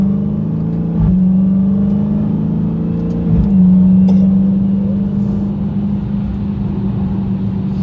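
A 2019 Dodge Challenger Hellcat's engine drones steadily, rising in two distinct surges as paddle-shifted gear changes land about two seconds apart, then settling into a loud, even cruise with no voices.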